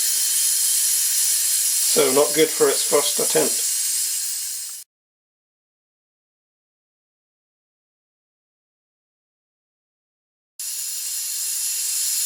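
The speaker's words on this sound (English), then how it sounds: "even with the steam leak coming from the sight glass" Steam hissing from a leaking sight glass seal on a kit-built model steam locomotive, a steady broadband hiss that runs for several seconds, cuts out, then returns, with someone speaking briefly over it.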